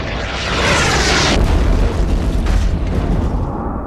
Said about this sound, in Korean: 이 소행성은 오늘날 멕시코의 유카탄 반도 연안을 강타합니다